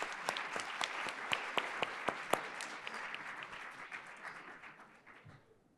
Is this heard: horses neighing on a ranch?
no